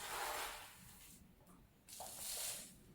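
Water poured steadily into a bowl beside a variegated Monstera adansonii, a soft continuous splashing stream that pauses briefly midway and then resumes, heard close and fairly quiet with no voices.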